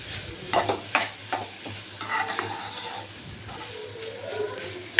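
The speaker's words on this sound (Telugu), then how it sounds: "ఇంకా కర్రీకి సరిపడినంత పచ్చికారాన్ని వేసి మొత్తాన్ని నీట్గా కలుపుకుంటున్నాను." Curry mixed with green chili paste is stirred in a pan as it fries on low flame: repeated scraping strokes of a spoon against the pan over a soft, steady sizzle.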